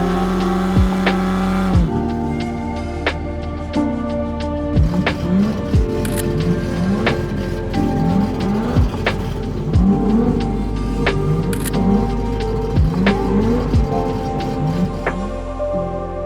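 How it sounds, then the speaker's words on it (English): A Nissan R32 at a racing event idles roughly and barks through repeated sharp revs, the loud blips rising and falling in a rhythmic pattern over a rumbling exhaust. "The loudest car out of all of these was this Nissan R32."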